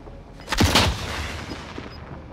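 Gunfire in the video game Warzone: a short burst of several sharp shots close together, followed by fainter scattered reports fading out, with no talk over it.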